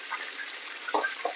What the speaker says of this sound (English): And you're going to take your oil and keep pouring it.